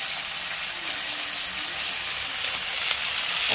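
Onions and slit green chillies frying steadily in a pan, a continuous close hiss of sizzling with no pauses and no voices.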